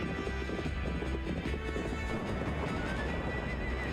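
Horses gallop in a Sega CD video game, a dense, continuous drumming of hooves mixed with whinnies, loud and steady throughout with no talking.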